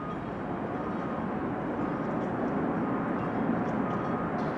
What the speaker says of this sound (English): The reversers being applied, you can hear them.